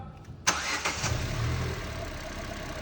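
Petrol engine of a Ford EcoSport starting after a cylinder head overhaul for a misfire, a sharp crank catching within half a second and settling into a steady, close idle.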